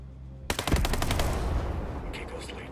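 Automatic gunfire in Ghost Recon Breakpoint: a loud, close burst of rapid shots opening sharply, then a ringing, echoing tail that fades.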